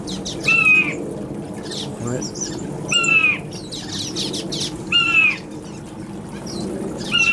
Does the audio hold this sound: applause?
no